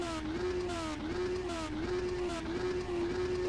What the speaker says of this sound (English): Riley loves revving the nuts off these things as soon as they jump onto the grid